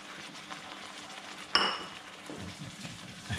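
A spoon scrapes thick chole masala, a Punjabi chickpea curry made without onions, around a cooking pan: a soft continuous scraping with one sharp metallic clink partway through.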